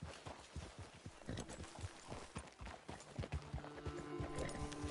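A horse in Red Dead Redemption 2 gallops at a steady clip-clop rhythm, its hoofbeats close and quick over ambient game noise, with a brief voice near the start.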